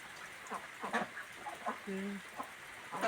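Chickens cluck and murmur in short bursts, fairly close, with a longer drawn-out call in the middle over a soft outdoor hiss.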